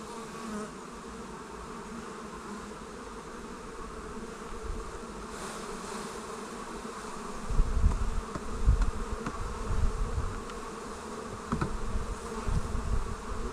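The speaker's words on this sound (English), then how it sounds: "I've got a few bees in that carry box here." Honey bees held in a carry box during a Taranov split for swarm prevention hum in a steady, dense drone throughout, with louder handling rumbles joining near the end.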